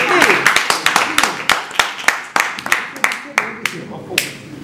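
A small audience claps for a speaker being introduced at a Paris press conference announcing a 2021 Zénith concert: close, irregular individual claps scattered across a few seconds, with no voices over them.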